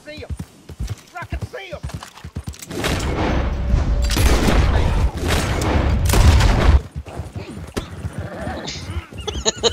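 In a Wild West shooting video game, a dense burst of gunfire crackles and booms for several seconds amid hoofbeat-like clatter from a horse, with people talking excitedly before and after.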